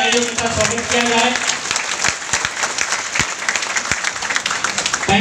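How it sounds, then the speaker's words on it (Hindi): A seminar audience in Bagodar breaks into loud applause to welcome guests, a broad wash of clapping that starts under a speaking voice and thins into scattered individual claps. "आप सबका एक बार मेरी ओर से जोरदार तालियों के साथ स्वागत किया जाए"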